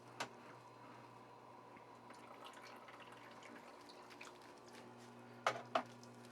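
A nugget ice maker, just switched on, gives a faint, steady electrical hum with soft trickling water, then two sharp clicks close together near the end, in a quiet room.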